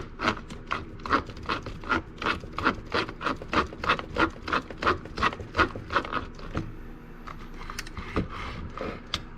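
Traxxas 4 Tec RC car drivetrain with Mod 1 gearing running loud on the bench, a rhythmic grinding whir pulsing in steady rapid cycles for about seven seconds, then slowing and fading into scattered clicks.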